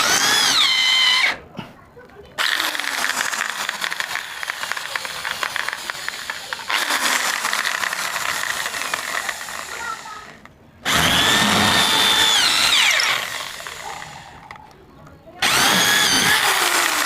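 A power drill bores into a hard wall to mount a TV bracket, loud grinding whine in long bursts separated by short pauses, the bit seeming to catch on stone.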